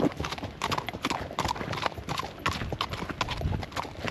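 Horse hooves clip-clopping at a steady walk along a wet Alpine mountain trail, close and rhythmic, with a faint whinny-like sound and some background noise.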